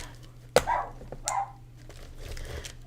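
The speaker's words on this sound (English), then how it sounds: "my dog is now barking" A pet dog indoors gives two short, fairly faint barks about a second apart, with quiet background between them.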